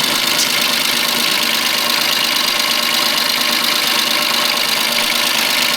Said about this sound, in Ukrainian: Трактор працює нормально, не сапунить, рівна робота, двигуна